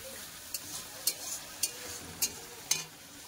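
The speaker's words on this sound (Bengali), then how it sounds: "ভালো করে কষে নেবো টমেটো আর আদা" Ginger and tomato paste sautéing in a pan under a low, even sizzle, punctuated by five evenly spaced scraping strokes of a spatula about half a second apart, close and clear with no talking.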